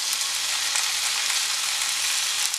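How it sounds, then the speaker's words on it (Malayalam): Fried okra being added to a tomato masala in a pan for vendakka mappas, a dense, even sizzle that holds steady and close throughout, with no talk. "ഫ്രൈ ചെയ്ത് വെച്ചിരിക്കുന്ന വെണ്ടക്ക ചേർത്ത് കൊടുക്കുക"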